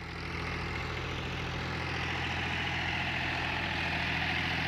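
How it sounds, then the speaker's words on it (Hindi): A John Deere 5105 four-wheel-drive tractor idles steadily with a low, even engine drone and no break, fitted with a heavy Maschio Virat Pro rotavator during a field demonstration. "साथियों, 5105 4-व्हील ड्राइव ट्रैक्टर है।"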